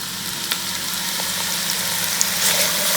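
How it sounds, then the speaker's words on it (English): Garlic fries in a pan for minestrone, a steady close sizzle with faint crackle and an occasional soft tick, unbroken for a few seconds with no talking. "I'm going to toss some garlic in."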